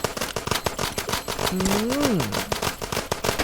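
Rapid bursts of gunfire ring out in the survival shooting game Trailer Shop Simulator, a dense, crackling stream of closely spaced shots with a short warbling tone rising and falling midway.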